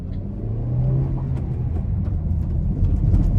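A third-generation Honda City i-VTEC accelerating hard with wheelspin, a loud low engine rumble and drone heard from close by, steady with a slight rise near the end.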